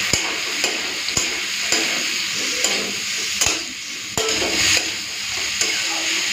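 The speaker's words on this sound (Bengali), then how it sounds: "এখন কেটে রাখা মূলোটা দিয়ে দেবো। দিয়ে দিচ্ছি নুন, দিচ্ছি হলুদের গুঁড়ো" Radish pieces fry with salt and turmeric in a pan for a Bengali chachchari, a loud, close, continuous sizzle punctuated by regular sharp spatula scrapes and knocks, with no talk.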